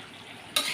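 Curry being stirred in a hot pan after garam masala goes in, a soft scraping hiss that jumps into a louder, brighter sizzle near the end; brief and close, with no talking.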